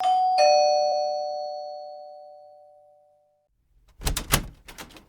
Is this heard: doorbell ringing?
yes